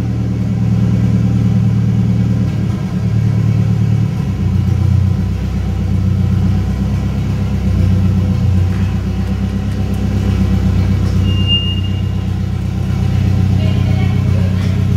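A turbocharged Chevrolet Chevette with an AP engine idles and rumbles nearby, a loud, steady low drone with slight swells in engine speed.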